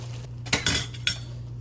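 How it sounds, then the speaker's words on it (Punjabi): Malpua frying in oil gets turned over with metal tongs, giving a few sharp clinks and scrapes against the pan over a steady low hum, close and fairly loud. "ਹੁਣ ਆਪਾਂ ਇਹਨੂੰ ਚਿਮਟੇ ਦੇ ਨਾਲ ਇਹਦਾ ਦੂਜਾ ਪਾਸਾ ਕਰ ਦਿੰਨੇ ਆ"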